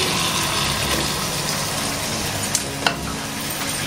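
Potato and sprouted moth beans stirred into sizzling spices in a pan, a steady close frying hiss with scraping stirs and two sharp clicks near the end, no voices.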